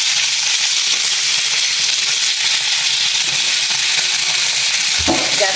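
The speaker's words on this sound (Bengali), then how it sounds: "আস্তে আস্তে দিয়ে ভেজে নেব।" A slice of bread fries in oil on a hot flat griddle, giving a loud, continuous, close sizzle with steady hiss throughout. A brief stir or scrape comes near the end.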